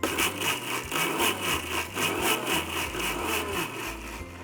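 A mixer grinder pulses a batch of rice and almonds with a dash of milk, a steady motor whir with faint rhythmic surges of grinding, close and moderately loud with no talk.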